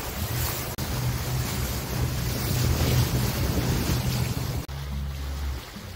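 A motorboat's engine drones steadily close by while arriving at an island near Isla Aguada, Campeche, with wind buffeting the microphone and water rushing alongside; the drone breaks off briefly near the end.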